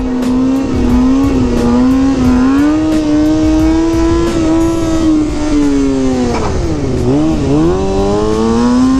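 A 2020 Kawasaki 636 stunt-build motorcycle revs and accelerates loudly and up close, its engine pitch climbing steadily, dipping sharply once and then rising again, with no talk.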